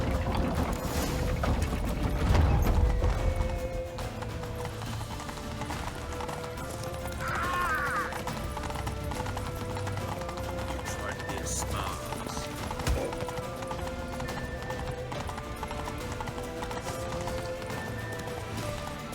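Horse galloping in The Witcher 3 video game, a rhythmic clip-clop of hooves running continuously alongside game music and mechanical effects, with a brief whinny and voices at moments.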